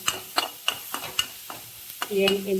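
Chopped onions fry in a pan for a soybean gravy, with a faint steady sizzle broken by about eight sharp scraping stirs in an uneven rhythm, then a brief louder tonal whine near the end.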